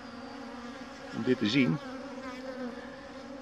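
Honey bees buzz steadily around an opened Dadant hive during a colony inspection, a continuous drone with a brief louder swell near the middle as a few bees pass close, with a voice speaking Dutch briefly.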